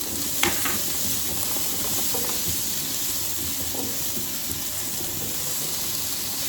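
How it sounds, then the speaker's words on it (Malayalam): Ginger garlic paste and small onions sauté in a pan with a steady, even sizzle and hiss throughout, broken by a few faint stirring scrapes and taps. "ഇഞ്ചി വെളുത്തുള്ളി പേസ്റ്റ് ഇതെല്ലാം കൂടി ഇട്ട് നമുക്കൊന്ന് വഴറ്റാം."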